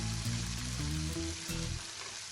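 Onion paste frying in oil for chicken karahi, a close, steady bubbling sizzle with a low humming drone underneath, no voices.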